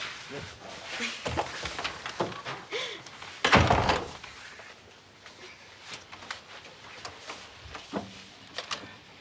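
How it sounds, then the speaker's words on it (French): A door thuds shut once near the middle, a loud close thump amid a busy indoor scene with people talking before and after. "La porte."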